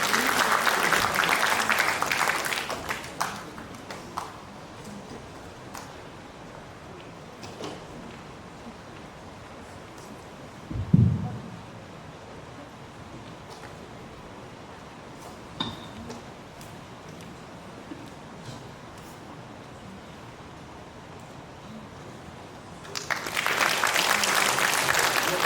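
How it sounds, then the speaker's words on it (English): An audience at an international academic conference in Seoul applauds, with clapping at the start that fades into a quiet hall, then swells again near the end. "Please give him a warm round of applause as he joins us on stage."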